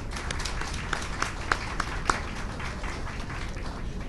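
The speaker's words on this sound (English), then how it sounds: "Please give them a round of applause for their support." Audience applause fills a school-district State of the Schools address luncheon, a steady, dense wash of clapping with a few sharper individual claps standing out near the start.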